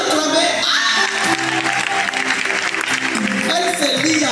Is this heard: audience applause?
yes